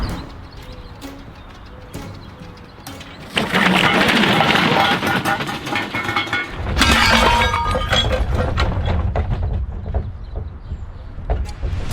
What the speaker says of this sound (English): once the toilet smashed to pieces, everyone from the house came outside to see what the noise was